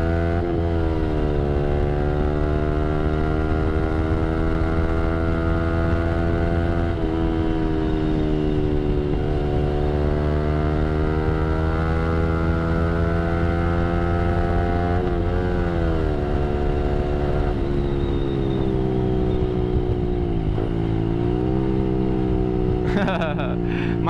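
Yamaha R15 V3 motorcycle from 2019 accelerating hard with VVA engaged, a loud sustained engine whine rising and dropping through gear changes, with talking over it.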